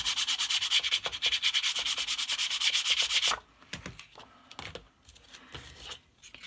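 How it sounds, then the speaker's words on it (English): Paper burnished down by hand on a mini suitcase pop-up book, a fast run of close rhythmic rubbing strokes followed by softer scattered rubs and light taps. "you might burnish it down a few times"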